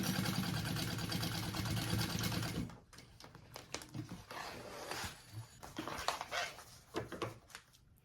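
A sewing machine basting back panel pieces runs in a fast, steady rattling stitch for under three seconds, then stops, leaving faint handling clicks and rustles of fabric.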